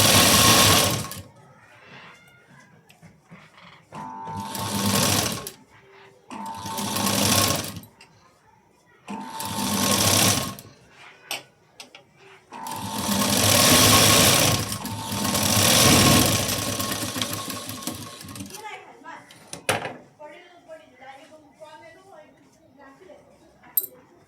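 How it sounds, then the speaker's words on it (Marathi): Domestic sewing machine stitching a fabric strip onto lining for a puff sleeve, running in several loud, close bursts of rapid needle chatter separated by pauses where a voice talks. "आता ही पट्टी खाली ठेवायची आणि एक शिलाई देऊन घ्यायची."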